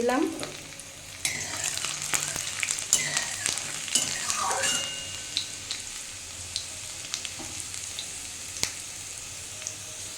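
Chopped garlic and black cumin seeds frying in hot oil in a pan, a steady close sizzle with scattered pops and crackles that settles into a gentler hiss as it continues.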